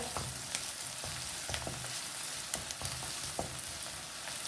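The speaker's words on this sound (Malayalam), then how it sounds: "വെളുത്തുള്ളി ഇട്ട് നല്ലോണം വഴറ്റാൻ വയ്ക്കാം." Garlic and ginger sautéing in a pan with oil for a chicken curry, a steady close sizzle broken by soft scrapes and stirring taps, with no talking.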